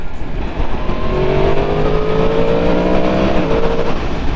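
A nearby 2023 Yamaha MT10 motorcycle engine roars and climbs steadily in pitch as it accelerates, loud and continuous against rushing wind noise.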